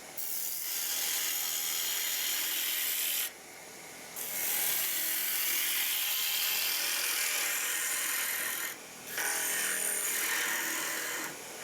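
A wood lathe turns a water flask while a bowl gouge cuts it, giving a steady bright scraping hiss. The hiss breaks off briefly twice as the tool lifts away, then resumes.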